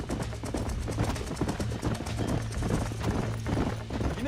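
In the Red Dead Redemption video game, horse hooves clop in a quick, steady galloping rhythm over a low ambient hum, close and fairly loud.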